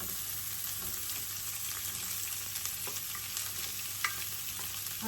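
Onions sizzle and fry in a pan for Filipino chicken tinola with turmeric, a steady crackling hiss with small pops and stirring throughout, close and alone with no talk.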